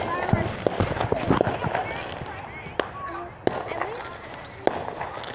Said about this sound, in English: There's some over there. Trying to catch fireworks.